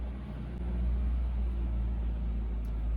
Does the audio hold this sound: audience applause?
no